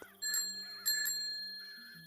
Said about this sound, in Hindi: अपनी पुरानी साइकिल के साथ खड़ा था। वह धीरे धीरे घंटी बजा रहा